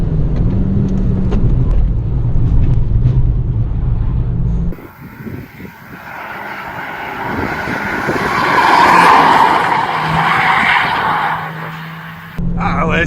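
A Citroën C2 VTS is driven hard, its engine loud and close before dropping off, then tires squeal and scrub as the rear end slides, swelling and fading over several seconds.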